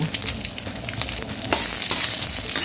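Shallots frying over low heat in a pan for egg fried rice with pork cracklings give a steady, close, continuous sizzle with faint crackles and stirring throughout.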